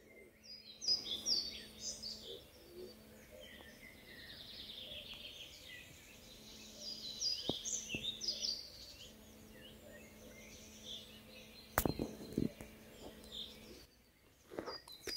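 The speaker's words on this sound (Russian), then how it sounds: "Птицы поют." Birds sing faintly outdoors in the countryside, scattered chirps and warbling phrases drifting through a quiet background with a low steady hum and a few sharp clicks.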